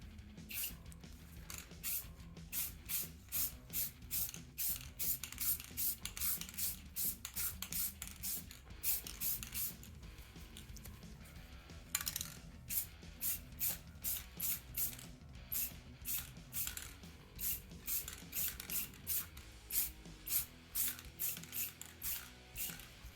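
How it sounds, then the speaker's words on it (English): Rust-Oleum Chrome Metallic spray paint hisses from an aerosol can over a primed, sanded 3D print, in a long series of short, rhythmic bursts with clicks and rattles of handling between them, close and steady. "Rust-Oleum Chrome Metallic. Let's get a test spray, good to go."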